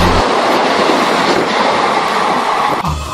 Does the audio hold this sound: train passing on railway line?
yes